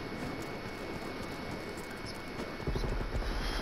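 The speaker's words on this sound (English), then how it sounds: "Multiple enemy spy plane contacts." Enemy spy plane droning overhead in a military video game, a steady broadband engine rumble that holds level throughout and swells slightly louder near the end.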